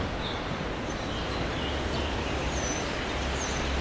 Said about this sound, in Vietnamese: Âm thanh của suối róc rách, của tiếng chim.